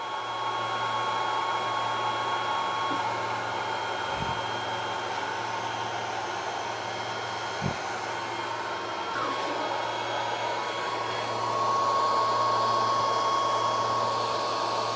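A Longer B1 40W laser cuts a 3/4-inch square in 3/4-inch pine at full power, giving a steady, even whirring hum of air assist and fans, with a few faint clicks and no talk.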